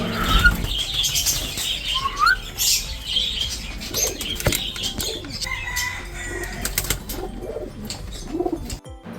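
Fancy pigeons coo softly at a pet sale farm while wings flap and birds shuffle nearby, with scattered chirps over a steady background.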